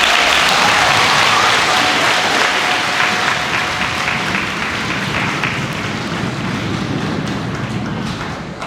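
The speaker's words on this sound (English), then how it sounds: "Let's give them another round of applause." Sustained, loud audience applause at a school Black History Month program, a dense wash of clapping that holds steady and only slightly thins toward the end.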